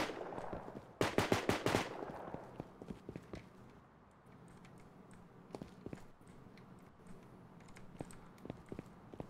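Gunfire in a video game firefight with a sniper, a rapid burst of loud automatic shots early on, then scattered sharp single cracks spread over a quiet background.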